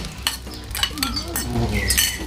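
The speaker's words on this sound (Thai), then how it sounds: "ไฟ ร้อนเสร็จแล้วต้องเบาลงเพื่อให้แหนมมันสุกพร้อมไข่ ติดกระทะเอย" Close sizzling of Thai fermented pork (naem) and egg frying in a pan over lowered heat, with scraping and clinking of a utensil stirring, irregular metallic taps over the frying.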